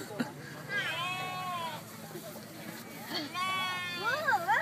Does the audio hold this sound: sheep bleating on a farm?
yes